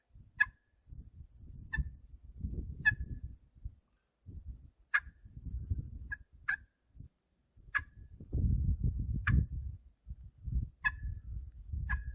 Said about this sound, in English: Let's try the cluck